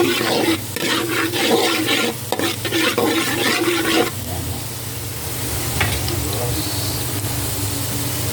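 Butter sizzling and melting in a hot pan for Filipino buttered shrimp, with bursts of stirring and scraping for the first four seconds, then a steady softer frying hiss.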